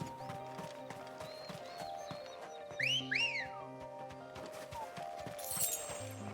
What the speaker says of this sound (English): Why are we doing a sexy whistle on our chocobo?